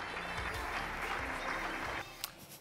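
A conference audience claps to welcome two speakers onstage at a business event, a steady crowd applause lasting about two seconds and then cutting off abruptly, followed by a brief faint knock.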